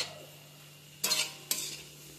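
Chopped capsicum, carrot and tomato fry quietly in a pan with a low sizzle, broken by two sharp scrapes of a spoon stirring against the pan.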